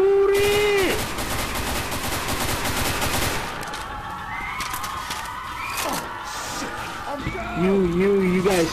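Heavy automatic gunfire fills a Left 4 Dead 2 co-op round, continuous and loud through most of it, with game sounds and tonal effects layered over the shooting.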